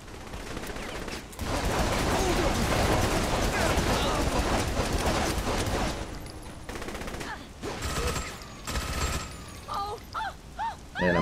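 Gunfire in Saints Row: The Third, a long dense burst of rapid shots followed by shorter separate volleys and single bangs, with a voice talking over parts of it.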